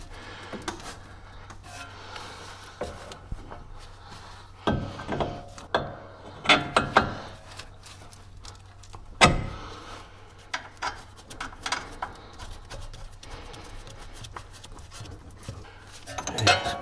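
A ratchet snugs up the tie rod on a 2018 Chevrolet during a lower ball joint replacement, with irregular bursts of close metallic clicking and clanks of tools against metal.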